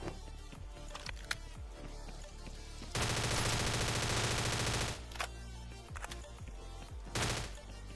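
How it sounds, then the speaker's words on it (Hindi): Rapid automatic gunfire in the battle-royale shooter ScarFall 2.0, with scattered shots early on, then a loud sustained burst of about two seconds and another short volley near the end, with no talking. "पीछे की साइड से एक और कुछ गन साउंड्स आते हैं मेरे को"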